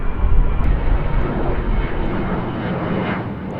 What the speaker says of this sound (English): there are constantly jets taking off and it's really loud